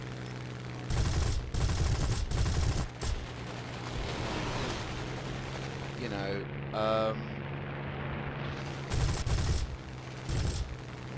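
Aircraft cannon fire in War Thunder after patch 1.33 rattles in short, loud bursts over a steady engine drone, with someone talking over parts of it.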